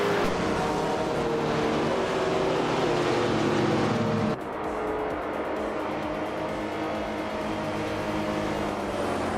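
Race cars in a video game roar past in a dense, continuous engine drone with tire noise, loud throughout and shifting abruptly in tone midway as the camera or car changes.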